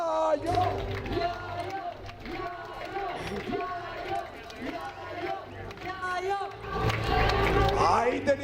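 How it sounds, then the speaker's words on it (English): A large crowd cheers and claps for a female runner at a mountain ultra-trail race, chanting her name with rising shouts, mixed with nearby voices and commentary. "You can hear how much the crowd love her. They're all cheering her name"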